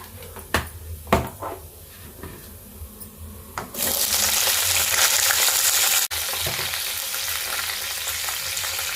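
Green chilli and tempering spices dropped into hot oil for tomato chutney, a few sharp clatters followed by a sudden loud, steady sizzle and crackle close by, no voices.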